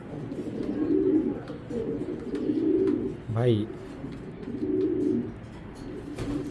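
Belgian racing pigeons coo nearby in repeated low, throaty bursts that rise and fall rhythmically, with a man's brief spoken word in the middle.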